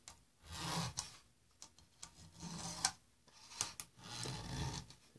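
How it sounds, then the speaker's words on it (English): Multimeter probes rake across the pins of an LJ92-01601A Y-Sustain circuit board, making quiet scraping rasps in several short bursts, with faint ticks between strokes. "So we're going to rake the pins both sides"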